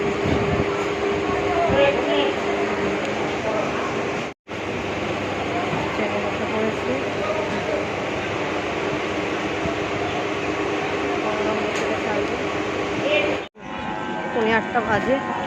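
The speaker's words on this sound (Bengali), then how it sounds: "উঠে গেছি ট্রেনে ছটা দশে ছাড়বে" Steady rumbling hum of a passenger train interior, continuous and fairly loud, with faint chatter and brief dropouts near the start and end.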